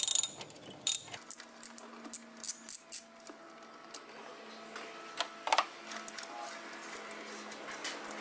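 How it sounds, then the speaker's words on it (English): A ratchet loosens an air duct clamp on a Nissan QR25DE engine, giving a series of sharp, close metallic clicks and taps at an irregular pace over a low steady hum. "Loosen air duct clamp."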